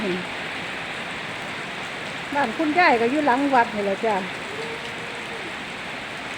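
Steady rain falls across a yard behind a temple, a broad even hiss that continues through the clip while someone talks in the middle.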